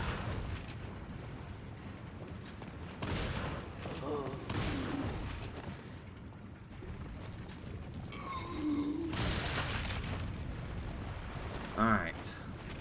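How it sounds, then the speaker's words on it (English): Shotgun blasts in Resident Evil 4 come as several loud, spaced reports amid game noise and occasional grunts, over a steady low background. "Shotgun first for these guys."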